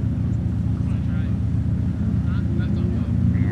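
A C-Stock Mazda Miata runs an autocross course, its engine a steady low drone heard at a distance under continuous commentary.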